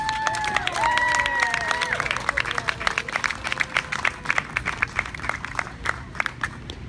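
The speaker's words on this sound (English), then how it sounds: "Let's give a round of applause for Kelly again." Audience applause and cheering break out at an outdoor One Love Festival, with voices calling over dense clapping that thins into scattered, irregular claps by the end.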